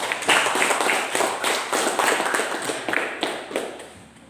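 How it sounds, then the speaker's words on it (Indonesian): A class audience claps in quick rhythmic bursts, a series of sharp, close slaps that gradually taper off. "silakan tepuk tangan dulu untuk motivasinya"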